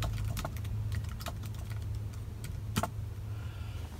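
Quick, irregular clicks of keys on a computer keyboard, faint and close, with a steady low hum under them and no talking.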